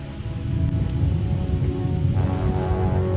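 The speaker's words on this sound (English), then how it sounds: "It's raining." A rain sound effect for an animated show, steady and dense with a low, rumbling wash of falling water that holds constant for about three seconds, with no voices.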